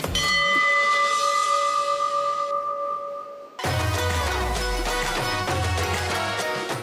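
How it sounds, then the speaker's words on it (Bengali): A bell on a Bengali television game show rings out loud and sustained with a bright, ringing tone, then cuts to a dense burst of show music or fanfare. "ঘন্টাটা আগে পড়ে গেছে"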